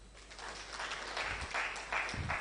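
A conference audience applauds after a guest's introduction, a steady wash of clapping that swells slightly toward the end, moderately distant.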